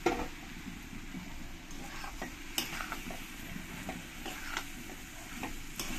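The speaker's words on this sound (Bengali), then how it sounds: "দিয়ে ছোলার সঙ্গে মশলার সঙ্গে ভালো করে মিশিয়ে নেব" Fried potatoes are stirred into chickpea masala in a pan, giving a soft continuous sizzle broken by scattered clicks and scrapes of the spoon against the pan.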